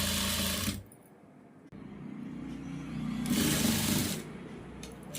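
A tailoring sewing machine stitches fabric in two loud, whirring bursts separated by a quieter pause with faint handling noise.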